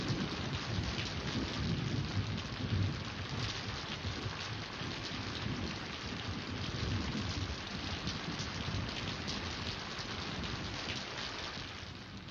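Steady, heavy rain hisses without a break while deep thunder rumbles low underneath, close and continuous throughout, with no voices.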